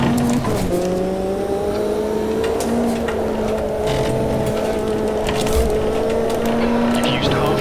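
A race car engine in the Automobilista 2 sim, held in third gear on the Londrina circuit, drones steadily at high revs with slowly shifting pitch and loud tire and wind noise throughout, while someone talks over it.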